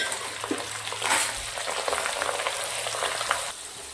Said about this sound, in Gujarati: તેલ ગરમ થઈ ગયું છે તો આપણે હવે થોડા થોડા કરીને બેબીકોર્ન આવી રીતે મૂકી દઈશું